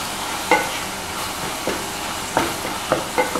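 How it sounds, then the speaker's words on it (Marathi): Ginger, garlic and chili paste fries in hot oil over a low flame, giving a soft, steady sizzle broken by several sharp scraping stirs of a spoon against the pan. "ती त्यामध्ये घालू आणि व्यवस्थित तेल सुटेपर्यंत"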